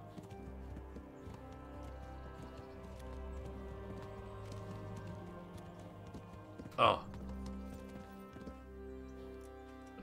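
Steady horse hooves clip-clop in an even rhythm in Kingdom Come: Deliverance, with a short spoken exclamation midway and a low musical hum beneath.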